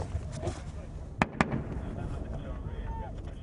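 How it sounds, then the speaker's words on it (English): Mortar rounds land close by in Afghanistan, two sharp blasts in quick succession over constant wind buffeting and background noise. "Mortars land just yards away."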